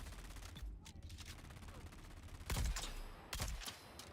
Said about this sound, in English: Actually shooting blanks at him.